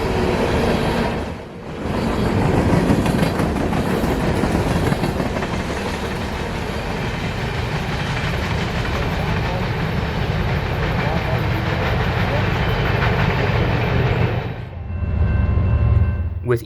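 A freight train on the CSX Chattanooga Subdivision rumbles steadily past nearby with continuous clattering wheels and rail noise, briefly dipping early on, then cutting off near the end.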